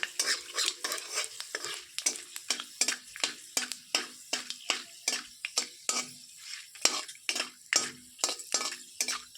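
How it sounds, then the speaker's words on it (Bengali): Panch phoron five-spice mix tempering in hot oil with dried red chilli and bay leaf, heard up close as a quick, steady run of clinking, scraping stirring strokes over a light crackling sizzle. "তেলটাও গরম হয়ে গেছে এবার দিয়ে দিচ্ছি ফোড়ন হিসেবে পাঁচ ফোড়ন"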